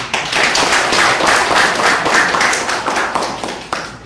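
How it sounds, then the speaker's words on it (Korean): Audience applause at a senior citizens' association chapter president's inauguration ceremony, a steady, dense wash of clapping from a crowd that keeps going without a break throughout. "박수 한번 더 크게 쳐주시겠어요?"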